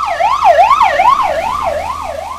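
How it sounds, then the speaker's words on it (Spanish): Two ambulances passing with wailing sirens, a loud rising-and-falling electronic wail that sweeps up and down repeatedly and fades slightly as they go by on a mountain hill-climb route. "acaban de pasar las dos ambulancias que vienen de vuelta"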